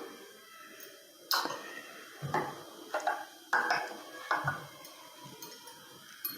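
A spoon taps and clinks against a bowl while aloe vera gel is stirred into a skin-care mix, a series of faint, irregular ticks and scrapes close by, quiet and without talk.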